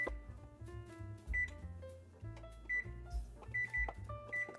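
An oven's control panel gives a series of short, bright electronic beeps while being set to 350 degrees to warm it for proofing pumpkin spice latte cinnamon rolls. The beeps come close and distinct over a soft tonal background.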